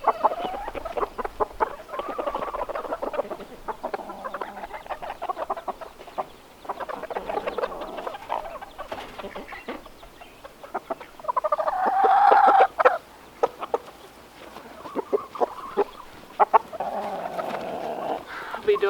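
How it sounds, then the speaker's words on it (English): Chickens clucking and murmuring nearby, with irregular soft calls and a louder burst of clucks partway through, over quiet outdoor background. "her chicks are over here in the chicken tractor"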